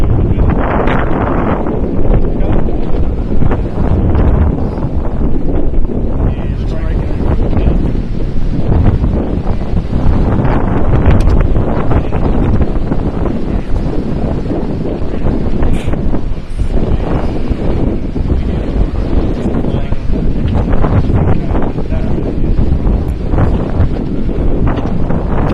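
Strong wind roars across an open softball field, a loud, continuous buffeting rush against the microphone with gusty surges and no pause.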